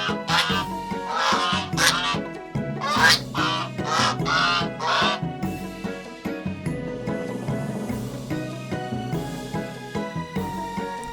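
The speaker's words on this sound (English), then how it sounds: "It's a goose." A goose honks and cackles in a series of loud, harsh calls, busiest early on and then thinning into scattered honks over a soft background.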